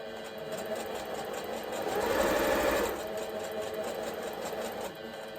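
Sewing machine stitching a shopping bag, a steady close mechanical hum and needle rattle that swells louder for a few seconds in the middle, with no talking.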